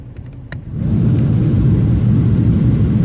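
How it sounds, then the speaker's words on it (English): The blower fan of a Jeep Grand Cherokee switches on and quickly rises into a loud, steady low roar of air on its high setting after a brief click, then holds constant. "full high blast, good airflow out."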